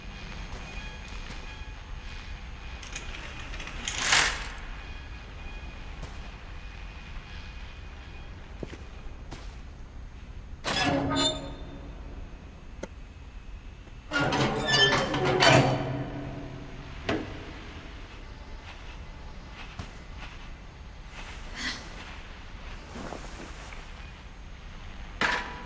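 A train approaches in the video game What Remains of Edith Finch, a low steady rumble broken by several loud clattering bursts spread through the passage, with no talking.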